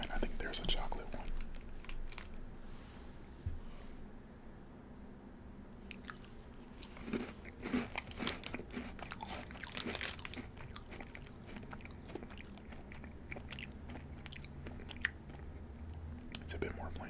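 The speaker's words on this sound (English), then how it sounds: "This is actually my first time having Dunkaroos." Close, crunchy chewing and biting of Dunkaroos cookies, with repeated soft crunches and moist squishing, accompanied by a quiet whispered voice.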